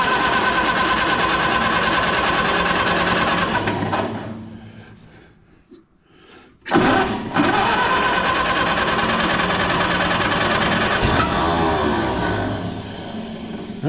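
A choked car engine cranks and catches, then runs loud and steady close by; the sound dips and sputters briefly midway before surging back to a strong, even idle.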